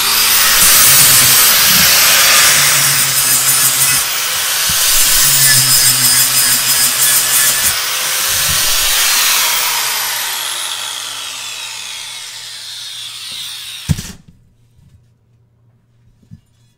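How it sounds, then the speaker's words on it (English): Power sander working an aluminum compressor housing with abrasives, a loud close hissing grind that wavers in pressure, then winds down in a falling whine and stops, leaving near silence with a faint hum. "So I may have a little bit more sanding to do"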